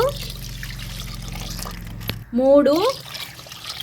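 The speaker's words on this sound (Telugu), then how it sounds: "నాలుగు కప్పుల నీళ్ళు అయితే వేసుకుందామండి" Four cups of water pour steadily into a pot with a soft trickling splash for sweet pongal, then a voice speaks briefly over it.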